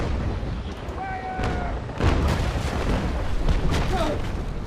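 Sailing-ship cannons in the naval combat game Naval Action fire in a broadside, a ragged string of deep booms that rumble together over several seconds amid game ambience.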